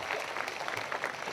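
Congregation clapping applause at a Hindi Christian prayer meeting, a dense, steady wash of many hands clapping continuously at moderate loudness throughout.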